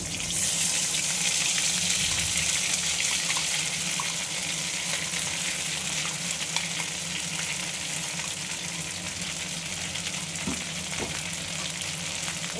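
Leaf paste hits hot tempering oil in a pan and sizzles steadily and loudly throughout, a dense continuous frying hiss with faint stirring scrapes.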